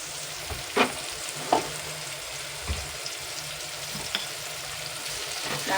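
Onions frying in a pan for a village-style mutton rassa, a steady soft sizzle with a few sharp scraping stirs of the spoon cutting through, close and alone.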